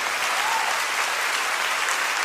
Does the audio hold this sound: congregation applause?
yes